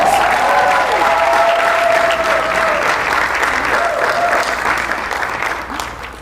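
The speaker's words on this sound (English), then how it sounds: "Give her a round of applause" Town hall audience applauding as a guest is called to the stage, sustained loud clapping from a room full of people while a tonal sound and faint voices drift through beneath it.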